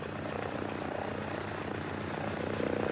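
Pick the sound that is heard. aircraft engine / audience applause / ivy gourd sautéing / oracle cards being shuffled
aircraft engine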